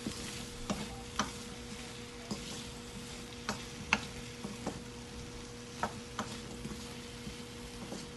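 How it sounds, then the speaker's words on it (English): Chopped vegetables sizzle quietly in a pan, with a soft continuous hiss broken by scattered clicks and taps from stirring. "All the vegetables that are cut is roasted finely."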